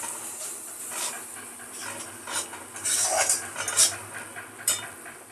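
A spoon clinks and scrapes against a pan as curry spice paste for a gravy is stirred and fried, with a soft sizzle beneath and irregular close utensil knocks.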